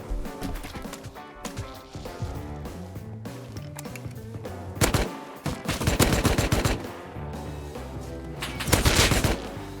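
AK rifle fire in Rust, a survival shooter: several loud, sharp bursts of rapid gunshots, some nearby and some farther off, with the heaviest clusters near the middle and at the end, and no voices.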